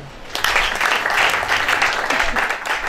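A church congregation applauding, a loud sustained wash of clapping from many hands that swells in after a brief quieter start and continues steadily.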